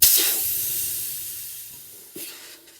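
Air brake on a GM 4104 bus releasing in a loud, close hiss of escaping air that starts sharply and slowly tapers over a couple of seconds, followed by a second brief puff near the end.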